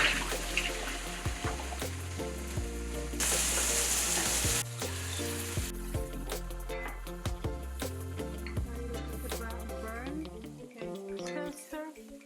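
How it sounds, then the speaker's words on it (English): Ginger, garlic and vegetables stir-fried with noodles in very hot oil, giving a loud steady sizzle with scraping and tossing noises, under a voice talking, plus a brief rush of running water. "Since this is a stir fry, we really need to move it very quickly."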